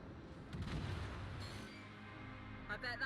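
A battleship's main guns fire a salvo in a naval video game, a deep booming blast followed by a rumbling tail as the sound fades, with a second sharper report near the end.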